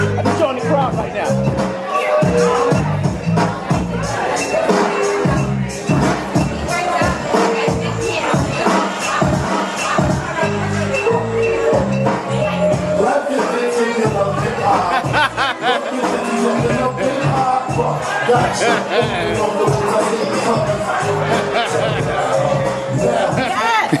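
A comedy show audience in the Bronx, New York, murmurs and chuckles in a busy hubbub, with a voice talking steadily over the crowd noise throughout.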